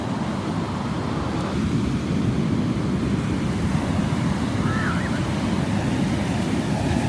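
Pacific Ocean waves wash up on a San Francisco beach in a continuous loud roar of surf with wind noise buffeting the microphone, and no voices.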